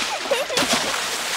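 A quick splash of water from cartoon pigs playing in water bursts in briefly after a short voice, then sloshing noise fades out.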